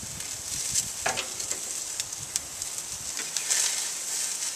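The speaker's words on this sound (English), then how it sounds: "On bratwurst, you want to sear these just enough to where the skin doesn't bust or wrinkle or crack or anything." Bratwurst sausages searing over the heat of a BBQ pit, giving a steady, dense sizzle with small pops and crackles throughout, close and fairly loud with no voices, while faint bird calls sound in the background.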